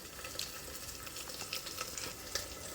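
Chopped vegetables hit hot oil with cumin in a pressure cooker for veg kurma, giving a steady, moderately quiet sizzle and crackle with small spattering pops throughout.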